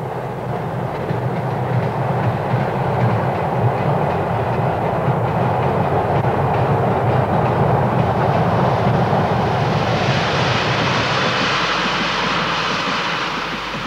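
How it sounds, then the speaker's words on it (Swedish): A passenger train bound for Oslo passes at length, a loud, steady rumbling roar with grinding wheel noise that brightens and hisses as the cars go by; no talk. "Det är Oslo-tåget som kommer nu."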